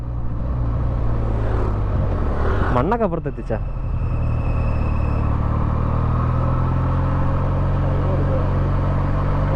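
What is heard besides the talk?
300cc motorcycle engine while riding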